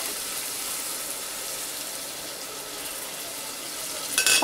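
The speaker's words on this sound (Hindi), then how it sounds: "पानी डालने से मसाले की मिर्ची के जलता नहीं है, थोड़ा पानी डाल देने का अच्छा रहता है।" Water poured into spices frying in a pan for mango curry gives a steady, loud hissing sizzle that holds throughout, then briefly flares up near the end, with no talking.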